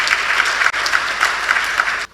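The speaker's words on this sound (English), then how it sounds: "Another round of applause for my panelists." An audience claps for the panelists at a workplace learning talk, a dense, steady round of applause with a brief break before it continues and then cuts off.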